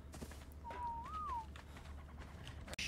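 A single rising and falling whistle from a video game character rings out clearly over a low droning background, followed by a short sharp burst near the end.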